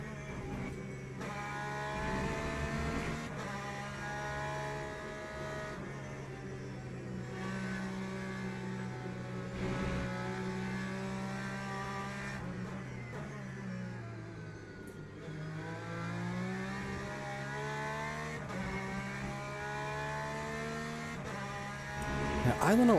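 A Porsche race car in the sim racing game Le Mans Ultimate holds a steady, loud engine drone, its pitch rising through the gears and dipping under braking, while someone talks over it throughout.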